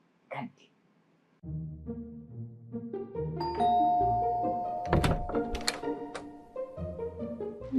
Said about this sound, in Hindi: अब चलिए बजाते हैं किसी घर की घंटी